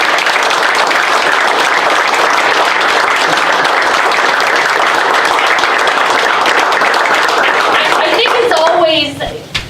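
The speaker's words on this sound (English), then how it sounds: "Can you give them a round of applause?" A school audience gives a dense, loud round of applause for students, steady throughout before tapering off abruptly at the end as a voice begins.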